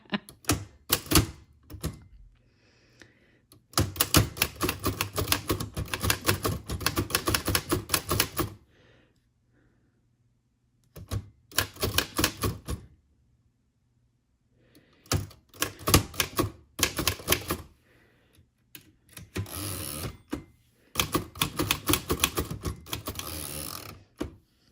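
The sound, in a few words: typing recipe cards on a vintage typewriter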